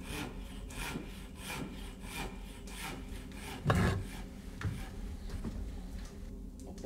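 A long saw rasps through wood in steady back-and-forth strokes, close by and fairly quiet, keeping an even rhythm throughout.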